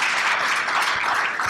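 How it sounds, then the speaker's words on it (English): A brief burst of audience applause at a breakfast speaking event, steady clapping from a room of listeners heard close and fairly loud. "So a big round of applause for it."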